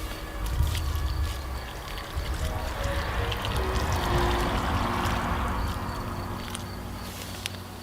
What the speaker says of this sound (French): Et important, vous arrosez bien une fois que c'est fait.